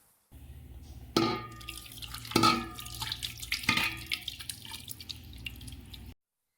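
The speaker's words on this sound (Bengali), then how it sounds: "এবার এই মাংস আর আলুর উপরে পুরো গ্রেভিটাকে ঢেলে দেব।" Gravy is poured over layered mutton and potatoes for biryani, giving a few distinct wet splats and drips followed by thinner trickling, close and alone.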